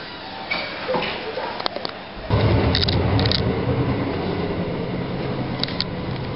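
Steady rumbling train noise inside a moving carriage, with a few brief clicks and knocks over the continuous low drone.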